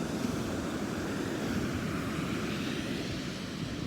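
Big ocean waves break at a foggy beach near an inlet: a constant broad roar of surf with gentle swells in intensity, steady and moderately distant, no voices.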